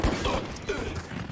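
A burst of rapid gunfire in the video game Valorant, loud and dense, filling the brief moment without any speech.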